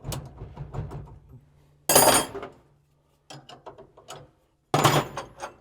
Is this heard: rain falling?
no